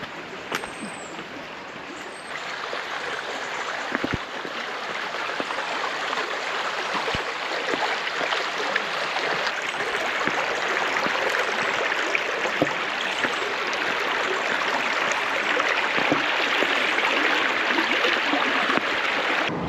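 The River Derwent rushing past stepping stones, a steady broad wash of flowing water with no pauses, fairly loud and close, holding even throughout.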